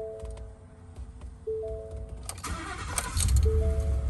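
A 2017 Ford F-150 XLT 4X4 with the 5.0 V8 cranks briefly and fires up, settling into a loud, steady rumbling idle close by with no talking.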